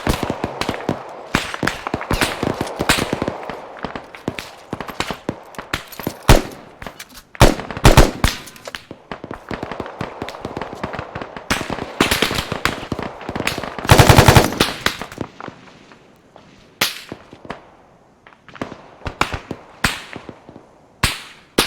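Arma 3 firefight with dense, sharp gunfire: rapid automatic bursts and single cracks overlapping continuously for over twenty seconds, loud and close with some heavier blasts mixed in.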